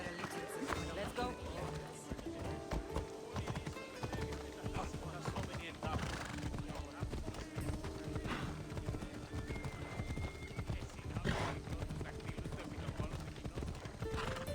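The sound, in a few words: horse galloping in Assassin's Creed Odyssey video game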